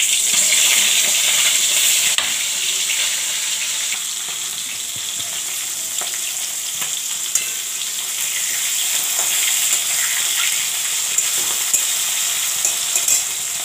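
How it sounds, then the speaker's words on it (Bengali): Fish pieces drop into hot fish oil and fry for a Bengali Puri Shak dish, giving a steady, dense sizzle that stays loud and even throughout, with occasional small pops and stirring clinks. "মাছের তেলের মধ্যে দিয়ে দেবো ওর জন্য। আর এবার একটা একটা করে দিয়ে দিচ্ছি।"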